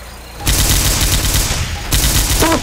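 Dense bursts of rapid video game gunfire from a shooter match fill the clip, a loud continuous fusillade broken by a brief dip before the shots resume, with faint voices mixed underneath.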